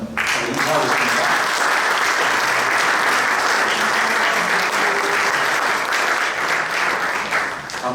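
Warm, sustained applause from an audience at a church mission board general assembly fills eight seconds, dense steady clapping from many hands with faint voices underneath.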